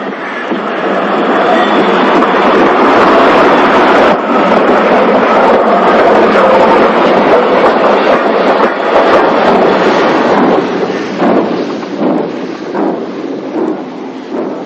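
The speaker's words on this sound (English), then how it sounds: "This is the stock of the overnight sleeper being shunted." Great Western Railway overnight sleeper carriages, including a centenary coach, rumble loudly and steadily as they are shunted, a dense continuous roar of rolling stock with rougher clanking towards the end.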